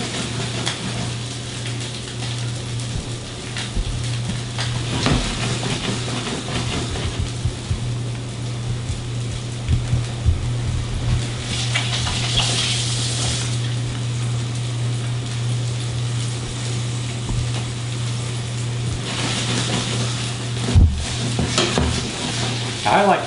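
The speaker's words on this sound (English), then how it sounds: "You heard that sizzle, that means we're getting a good sear on the outside." A salmon fillet searing in a hot pan, giving a steady bright sizzle that lasts throughout, with occasional scrapes and clatter from a utensil and a low steady kitchen hum underneath.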